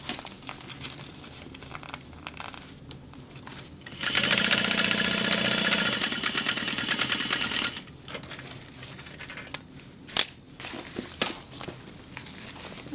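A sewing machine runs a burst of a few seconds stitching the seam of a fabric bag, then stops, followed by quiet fabric handling and a couple of sharp clicks.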